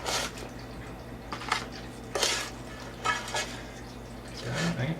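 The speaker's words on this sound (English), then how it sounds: "So I'm just going to slide them out of the pan." A spatula scrapes metal and a pan clanks as grilled cheese sandwiches slide out of the pan. The scraping comes in several separate bursts over a low sizzle, close and fairly loud, with no talking.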